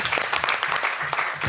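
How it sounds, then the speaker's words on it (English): Audience applause at a community board monthly meeting, a brief burst of steady clapping from a room of people, fairly close and dense, with no talking over it. "give me a warm round of applause"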